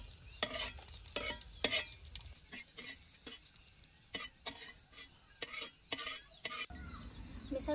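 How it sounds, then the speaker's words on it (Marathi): Green chilies fry in oil in a pan over a wood-fired stove, with close, quiet sizzling and repeated scraping stir strokes at an uneven rhythm. "आता मी मिरच्या पण त्या तेलामध्ये ना परतवून घेते."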